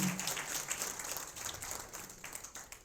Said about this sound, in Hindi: एक बार अपने सम्मान के लिए अपने आप ही ताली बजाइए।